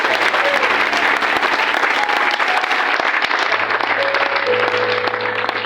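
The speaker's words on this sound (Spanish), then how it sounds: "Dele su mejor aplauso al Rey de Gloria." A church congregation gives loud, sustained applause during a special offering service, a dense continuous roar of clapping that holds steady throughout, with faint held tones sounding underneath.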